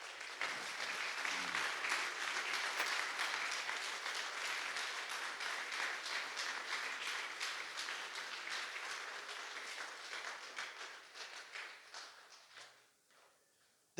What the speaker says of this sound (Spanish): quiero que le des un fuerte aplauso al Señor